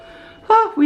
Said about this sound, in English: Oh, we even have a doorbell.